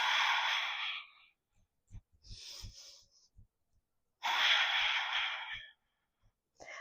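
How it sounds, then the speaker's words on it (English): Slow breaths drawn in and pushed out through the nose during a Pilates core workout, with long airy exhales separated by quieter gaps where soft inhales and faint movement thumps are heard, close to the microphone. "Try to breathe in and out through our nose if we're able to."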